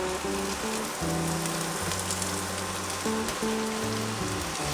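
Onion, chili, curry leaves and finely chopped ginger and garlic sizzle in a pan, giving a dense, constant crackling hiss that stays loud throughout, with low musical tones beneath.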